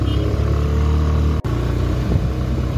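Motorcycle climbing a steep mountain road near Tawang monastery, its engine droning loudly and continuously close up, with a brief dropout midway and faint clatter.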